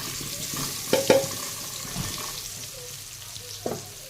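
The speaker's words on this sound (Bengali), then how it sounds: "আবার কিছু আলু ভাজতে দিয়ে দেবো।" Potatoes fry in hot oil with a steady soft sizzle, interrupted by a few sharp clinks and scrapes of a utensil stirring and lifting them from the pan.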